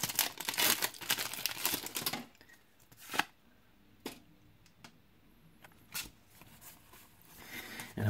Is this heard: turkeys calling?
no